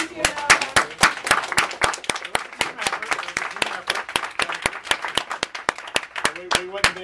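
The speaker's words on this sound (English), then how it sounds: "So we should give him some applause" An audience at a bisexual pride celebration in Washington DC applauds the event organizer with loud, distinct claps close by, some scattered voices among them.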